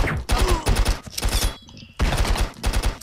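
Rapid gunfire and heavy shotgun blasts from the Stick Arena video game, including a double-barrel shotgun, come in dense clustered bursts with a brief lull in the middle, loud and continuous.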